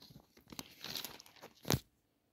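A plastic bag crinkles and rustles in short bursts as a plant tray of hydrangea cuttings is pulled out, ending in one sharp, loud crackle before it goes quiet.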